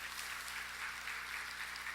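A church congregation claps, a soft, even wash of applause from a distance during a Korean evening worship service.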